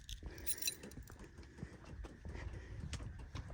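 Keys for a 1987 Ford Bronco jingle and clink faintly as they are handled, light metallic rattles and taps scattered irregularly over a quiet background.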